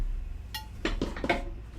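A ceramic butter dish handled on a table: a few light clinks and taps of ceramic pieces knocking together, close and fairly quiet, in a brief cluster.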